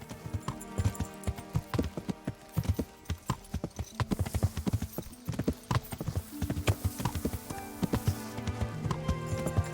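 Horse hooves clip-clop at a lively pace in the medieval game Kingdom Come: Deliverance, crisp repeated hoofbeats over a background of game music.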